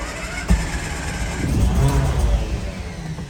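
A Vantare engine with a slight misfire revs in short, uneven bursts, its mid-range drone rising and falling with irregular stutters and a sharp knock at the start and end.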